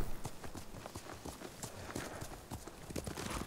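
A ridden horse gallops in Ghost of Tsushima, heavy hoofbeats pounding in a fast, even rhythm up close, continuous and loud with no talk.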